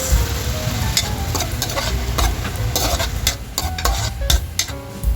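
Tomatoes with fish sauce sautéing in a pan for a mung bean dish, a dense, continuous sizzle with frequent clatters of a spatula stirring against the pan, close and loud.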